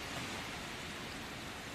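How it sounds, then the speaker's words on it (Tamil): Heavy rain falls steadily outside, a dense, even hiss with no pauses or voices. "வெளிய ரொம்ப மழை பெய்யுது."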